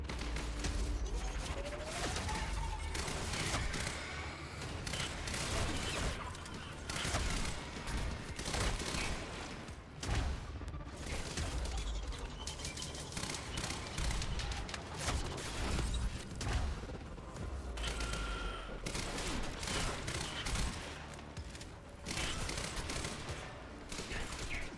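Rapid bursts of rifle and automatic gunfire in the video game Quantum Break, dense and continuous over the whole stretch, loud with sharp repeated cracks and brief pauses.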